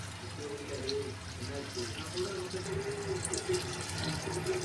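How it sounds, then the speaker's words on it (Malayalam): Jaggery syrup poured into a pot of lentil payasam, giving a steady, close liquid pour and trickle that runs under a low background hum. "നമ്മുടെ ശർക്കരപ്പാനി ഒഴിക്കുകയാണ്."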